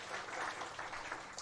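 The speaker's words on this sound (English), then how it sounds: "So a big round of applause for Dr. Nateshan as well." An audience at a toxicology conference at Nirma University in Ahmedabad gives a round of applause for Dr. Nateshan, a dense, steady wash of many hands clapping at moderate distance, fairly soft and without pauses.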